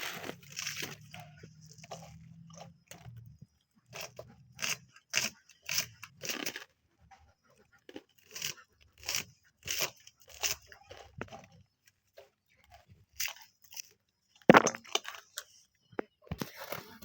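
Onion being chopped into coarse pieces on a board in a home kitchen while making spiced puffed rice, heard as bursts of sharp, close knife taps in quick runs with short pauses, fairly quiet, with a soft voice at the start.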